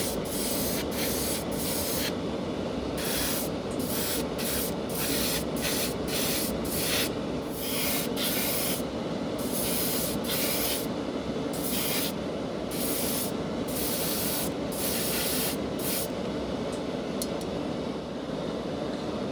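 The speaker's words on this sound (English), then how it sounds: "So as I hit it with the airbrush, of course, it started blowing about in the breeze" An airbrush spraying paint onto a 1960 Dinky Toys 966 Marrel multi bucket skip truck model, a steady close hiss broken by short regular pauses as the trigger is released and pressed again.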